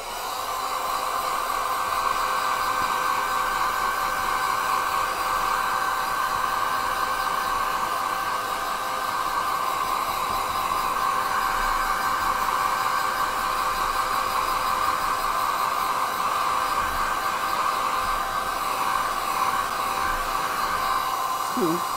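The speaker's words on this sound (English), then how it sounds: "I'm going to get my dryer." Hair dryer blowing steadily and continuously over a watercolour painting, a loud even whoosh with no pauses.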